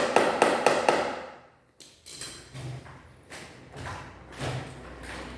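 A plastic chair leg under repair is tapped down into place, giving a quick cluster of sharp knocks followed by a few softer, scattered thuds and handling noises close by.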